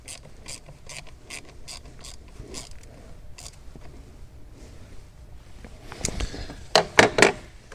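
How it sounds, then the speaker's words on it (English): A ratchet tightens the bolt holding a replacement boost pressure sensor, giving a run of quick, evenly spaced clicks up close and then a few louder, sharper clicks and knocks at the end. "I'm going to tighten the bolt."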